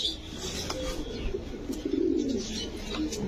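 Domestic pigeons at a loft coo in low, rounded bursts, a few soft calls rising and falling close by over light background noise.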